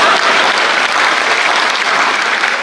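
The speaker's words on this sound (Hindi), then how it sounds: "एक बार मेरे भौगोलिक ज्ञान पे तालियां बजनी" A dense, steady wash of audience applause at a Hindi comic poetry recital (hasya kavi sammelan) fills the space, loud and continuous with no voices over it.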